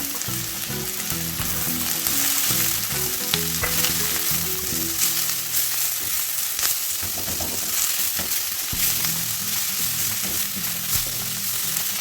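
Curry leaves, ginger, garlic and green chillies fry in hot oil with a loud, steady sizzle that holds for the whole stretch, while low tonal music runs underneath.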